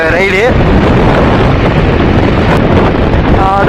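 Heavy wind buffets the microphone during an evening motorbike ride along the beach road to Pondicherry, a loud steady roar with brief speech at the start and end.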